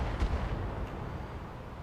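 Mobile artillery firing in the video game BattleTech: one dull low boom at the start that fades into a rumbling tail, heard alone without speech.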